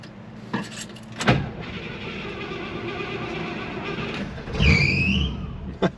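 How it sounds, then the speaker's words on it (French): Car engine starting with the key, a short cranking burst that catches, then a brief high squeal from the belt at start-up over a low steady running hum, close by. "La courroie couine une fois ou deux au démarrage, et puis ensuite elle s'arrête"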